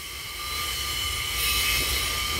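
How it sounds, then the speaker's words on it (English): A gypsum train rumbles past with a steady roar and a metallic ringing tone from clanking wagons, swelling slightly toward the end; no voices. "Oh, that annoying clanking!"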